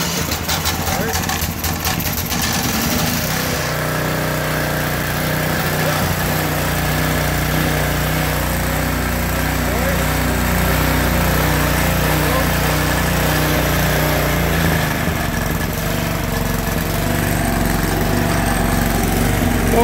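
A Simplicity snow blower's small engine runs steadily close by, a continuous buzzing drone that shifts slightly as the throttle is moved up, with someone talking over it.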